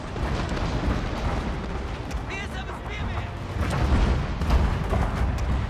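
Artillery fire in Fall of the Samurai, a historical Japanese battle game, as repeated heavy booms and rumbling impacts over a dense battle din, with a voice talking throughout.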